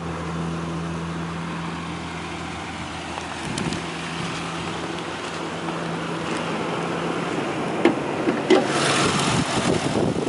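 A 2009 Ford Ranger Sport extended cab with a 4-liter V6 engine runs at idle, a low steady hum with a few clunks and a brief rise near the end, heard without talk.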